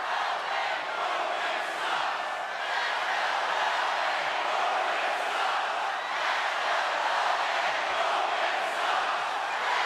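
A loud, steady roar from a wrestling arena crowd during a WWE Extreme Rules 2018 match between Roman Reigns and Bobby Lashley, a dense wall of cheering and shouting that holds without a break for the whole stretch.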